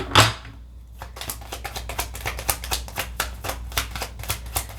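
Tarot cards are shuffled with a rapid, steady run of crisp papery flicks, close and clear, after one louder riffle at the start.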